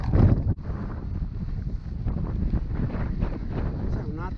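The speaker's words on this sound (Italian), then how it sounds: "C'è un attimo di vento." Gusty wind buffets the microphone in a steady low roar on a mountain in the Apuan Alps, with a brief sharp drop near the start and faint rumbling underneath.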